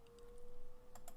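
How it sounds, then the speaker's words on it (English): A left computer mouse button clicks a couple of times near the end, faint and crisp against quiet room hum. "just practicing clicking once with the left mouse key"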